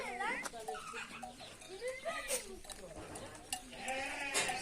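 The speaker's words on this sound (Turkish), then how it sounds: "Keçiler de ağaç yemeyi seviyorlar." Goats bleat repeatedly in wavering cries close by, overlapping one another, with people talking over the outdoor background.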